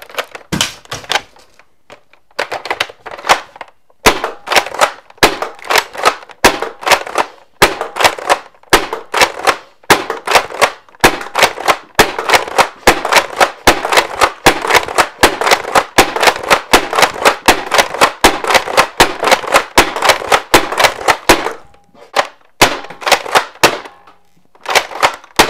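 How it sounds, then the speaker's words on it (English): A modded Phase X Longshot foam blaster firing Zuru Skins darts makes a long run of sharp, snappy mechanical clacks, fast and fairly regular, loud and close, with brief pauses near the start and end. "Let's take a look at it firing."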